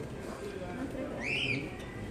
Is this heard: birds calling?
yes